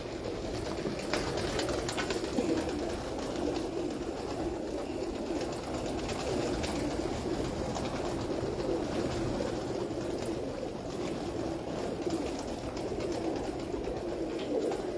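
A steady murmur of many pigeons, including Lakha pigeons, cooing together on a rooftop in Sialkot continues throughout, with no clear pauses, against a noisy outdoor background.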